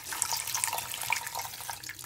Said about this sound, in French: Et direct, je vais aller mettre l'eau.